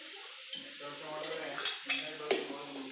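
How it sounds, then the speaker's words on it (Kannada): Tomatoes fry in oil in a pan for a green chutney, a soft steady sizzle with scraping stirs and a few sharp metallic clinks of a spoon against the pan. "ಸ್ವಲ್ಪ ಆಯಿಲ್ ಹಾಕ್ಕೊಂಡು ಫ್ರೈ ಮಾಡ್ಕೊಳ್ಳಿ."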